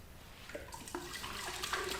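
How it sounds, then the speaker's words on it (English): Tap water running and splashing into a large glass beaker, a faint, steady trickle with small splashy onsets, heard alone at low level. "I'm going to put some tap water into that large beaker."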